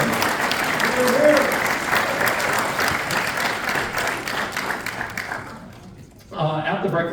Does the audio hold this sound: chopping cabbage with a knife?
no